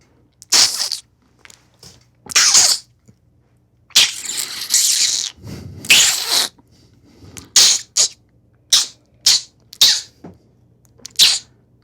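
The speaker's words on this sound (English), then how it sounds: "That's the sound of someone sucking one's teeth." A person sucks their teeth close to the microphone, making a series of sharp, hissing clicks and sucks in short bursts, some longer and louder, separated by silence.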